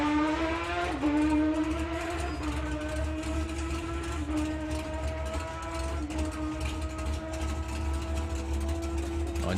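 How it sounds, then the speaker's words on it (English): A drag racing car at the FIA Main Event accelerates hard through the gears, its engine note climbing steeply then dropping at each of several shifts, loud and sustained with no talking. "You're going to hear Nick car go through the gears"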